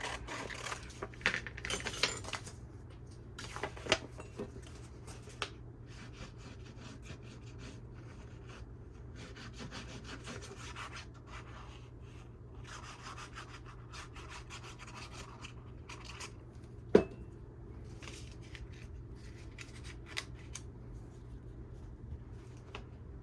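Scissors trim paper for an envelope junk journal, giving quiet, close snipping and rubbing at irregular intervals over a faint steady hum, with one sharper tap partway through.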